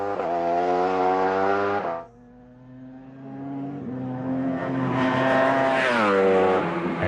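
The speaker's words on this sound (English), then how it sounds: "The roar of the 5-cylinder engine seemed to resound everywhere." A 5-cylinder test motorcycle engine on a circuit roars loudly at high revs, drops back briefly, then climbs again through rising harmonic pitch as it accelerates close by.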